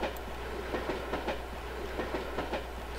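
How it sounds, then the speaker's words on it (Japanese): A ten-car JNR express train departs in the railway simulation game A-Train 9, with steady rhythmic clickety-clack of wheels over rail joints beneath a constant low rumble, heard alone. "この霊峰富士をバックにですね、この国鉄の特急列車発進していきます。"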